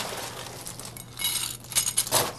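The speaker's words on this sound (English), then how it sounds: "So put my ice, a little bit of water to help chill it." Ice cubes are dropped into a martini glass with a little water to chill it, giving a series of bright, close clinks and rattles that cluster toward the end.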